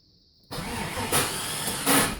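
A starter motor cranks an LS-swapped G-body car engine after a brief electronic tone, with a loud, steady whirring grind and two surging pulses as the engine catches, heard up close with no talk.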